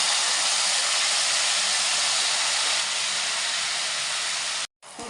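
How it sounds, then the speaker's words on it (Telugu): A loud, dense hiss of tamarind thokku paste sizzling in hot oil for pulihora, steady and close, cutting off abruptly near the end. "ఇప్పుడు ఈ చింతొక్కు పులుసుని నూనెలో వేసుకుంటాం."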